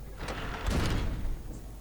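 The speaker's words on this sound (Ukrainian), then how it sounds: "Ой, двері закрились." A door swings shut in the dark castle of Amnesia: The Dark Descent with a heavy low rumbling thud midway, followed by a fading scrape.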